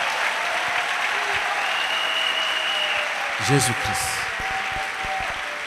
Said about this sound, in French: Let us clap for Jesus.